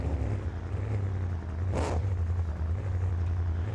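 Monster truck engine in a BeamNG Monster Jam car-crush competition, Tail Gator or Grave Digger, rumbling steadily with a deep low drone throughout and a brief rev burst near the middle, with no talk.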